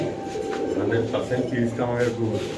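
A Saharanpuri pigeon coos in soft, repeated, throaty phrases close by at a busy pigeon market, with people talking over and around the calls.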